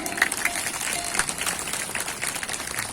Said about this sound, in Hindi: बजाओ ताली जोर से।